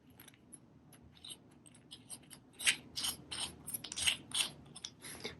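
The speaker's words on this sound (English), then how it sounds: "We can show you that they do thread together." A 1/4 inch pipe stem threads into a 1/4 Mogul IPS lampholder cap with a run of small close metallic clicks and scrapes, quiet at first and then sharper, with no talk.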